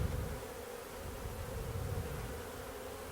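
Honeybees in a hive during a nuc transfer to a new eight-frame box, producing a dense, continuous buzzing hum, close and steady with no voices.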